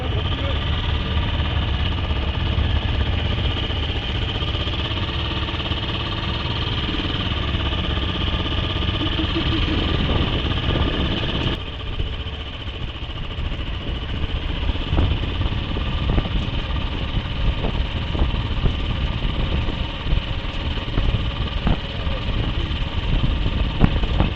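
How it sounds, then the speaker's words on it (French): Motorcycle engines idle steadily and loudly in winter cold, warming up, a constant rumbling drone with slight revving shifts midway. "faire chauffer les motos pour le retour"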